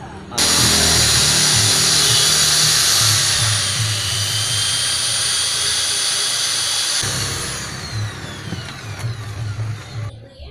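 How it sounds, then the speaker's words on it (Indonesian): A power drill spins against an engine valve during lapping, a loud steady high-pitched whine running almost the whole time with a low rumble beneath, easing off near the end. "kita lanjut pakai bor saja supaya cepat"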